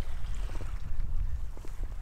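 A packraft is paddled across water on Hardangervidda with the wind at its back, giving a continuous low rumble of wind and water with soft, repeated paddle splashes close by.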